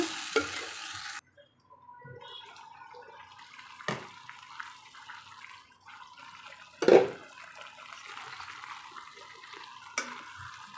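Ingredients for tomato chutney frying in a pan, a quiet hiss with occasional scrapes and one louder clatter of the utensil partway through, close but subdued with no talking.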